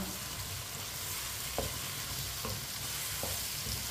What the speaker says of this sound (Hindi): अब इसे मीडियम आंच पर 2 मिनट के लिए पका लेंगे। थोड़ा सा भून लेंगे इसे।